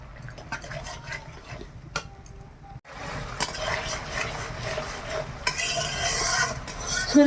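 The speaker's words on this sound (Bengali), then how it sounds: "সরিষা পোস্ত ভালোভাবে ভাজা হয়ে গেছে" Mustard and poppy seed paste with onion, tomato, green chili and turmeric sizzles in oil in a pan, a spoon scraping and stirring it steadily at close range with a brief pause partway through.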